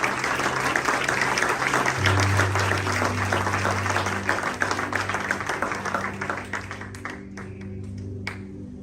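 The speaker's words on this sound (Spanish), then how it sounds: "Si le va a dar un aplauso, señora" A church congregation applauds in a full, brisk wave of clapping over low sustained keyboard tones, the claps thinning into scattered hits toward the end.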